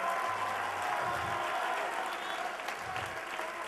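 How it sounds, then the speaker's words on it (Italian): Sustained crowd applause at an outdoor political rally in Italy, a thick, even wash of clapping from a large audience throughout, with muffled voices and a low hum faintly beneath. "vengano sul palco e fategli l'applauso"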